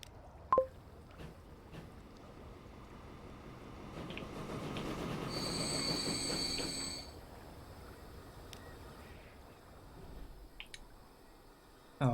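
A train rumbles through the simulated UK rail network of the Transport Fever 2 game, a soft rolling swell with a steady tonal whine in the middle, under scattered faint clicks.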